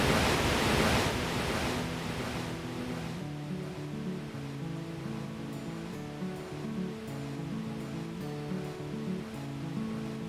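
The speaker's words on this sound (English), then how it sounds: "when you got close, you can start to hear the waterfall" Moxie Falls in Maine gives off a broad, steady rush of falling water that is strongest at first, then recedes beneath a melodic music track that plays over the rest.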